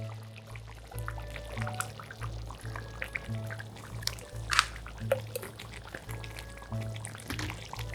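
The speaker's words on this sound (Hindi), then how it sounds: "इसको हम थोड़ा सा ऐसे ऊपर आधा कप क्रीम डालूँगी" Half a cup of cream poured over a chana chicken dish, a soft liquid pour with drips and light clinks against a low steady hum, no talk.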